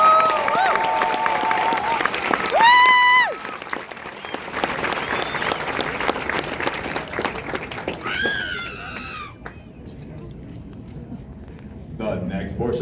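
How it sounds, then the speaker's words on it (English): Applause and cheering from a large crowd at a Marine Corps graduation ceremony, a steady roar of clapping that fills the space and then gradually thins out toward the end. "please join me in a round of applause for the company staff of Company H."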